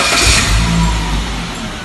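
A Suzuki Grand Vitara 4x4 engine runs steadily up close, a loud low rumble with a slight rise early on, then settling to an even drone with no talking.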